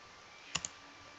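Two quick keyboard key clicks in close succession, like a copy-and-paste shortcut typed on a computer keyboard while working on a document, crisp and fairly close against a quiet room background with no talking.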